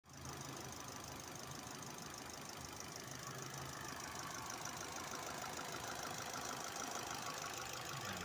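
Ford Fiesta hatchback engine running just after a new DIN 44 Yokohama battery went in, a steady low idling rumble with a faint knocking texture, close and constant from the first instant, with no voices.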